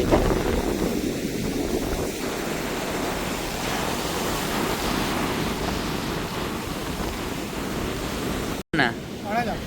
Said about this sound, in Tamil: கடல் தண்ணி ஊடி அலையடிச்சு அடிச்சு வந்து